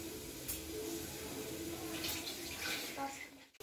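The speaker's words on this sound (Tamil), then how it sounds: "இதுக்கு தேவனா இந்த கொஞ்சம் தண்ணி மட்டும் நம்ம ஊத்திக்கலாம்" Water poured from a vessel into a cooking pot of brinjal thalcha with tamarind, a steady splashing stream lasting a few seconds, close by, before a short pause at the end.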